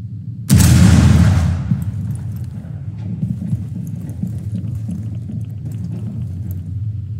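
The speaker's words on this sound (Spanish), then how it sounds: "Ahí está, se escuchó una explosión." A loud explosion from the tactical shooter game Rainbow Six Siege bursts in abruptly, then a rumbling decay fades over about a second into low, steady game ambience.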